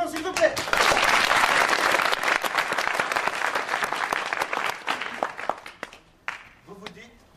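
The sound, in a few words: applause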